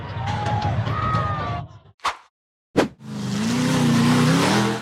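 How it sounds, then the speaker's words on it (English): A black Jeep charges across an open field and up a tall dirt embankment off-road, its engine roaring loud and close, cutting out to silence around two brief bursts, then surging back into sustained heavy revving. "The black Jeep accelerated across the open field and charged straight up a tall dirt embankment."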